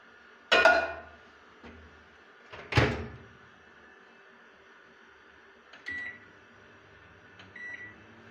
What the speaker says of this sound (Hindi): सालन गर्म कर लिए ओवन चों